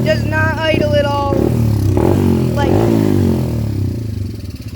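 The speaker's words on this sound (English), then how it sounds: "once I let my hand off the throttle and I stop revving it up, it'll turn off" A small carbureted engine that won't idle revs with a buzzing, pitch-swinging whine, then drops off as if dying, while someone talks over it.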